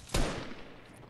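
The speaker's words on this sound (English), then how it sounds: "Oh, he got a shotgun." A single loud shotgun blast in Fortnite, sharp onset with a rumbling tail that fades over about a second, heard alone without talking.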